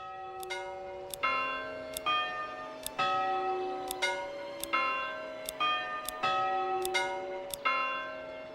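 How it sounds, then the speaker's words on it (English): A church bell in the medieval city-building game Manor Lords rings in a slow, regular series of clear metallic strikes with long ringing decays between them, heard alone and at moderate volume. "we have to assign the correct bell to ring"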